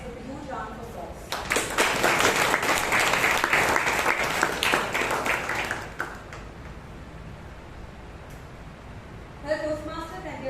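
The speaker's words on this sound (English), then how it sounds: "together let us welcome our guests with a huge round of applause." At a Toastmasters club meeting in Bangalore, an audience bursts into applause to welcome guests, the clapping swelling for about five seconds and then fading, with a voice speaking before and after.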